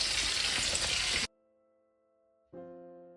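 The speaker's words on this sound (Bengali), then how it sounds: "একটা দিক 2 মিনিট থেকে 3 মিনিট ভাজতে হবে।" Pomfret fish frying on a tawa makes a loud, dense sizzle for about a second before cutting off, followed by quiet steady tones.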